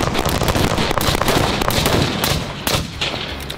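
Rapid, loud .308 rifle fire pours continuously into homemade body armor outdoors, a dense overlapping string of cracking shots that eases off near the end, with no talking.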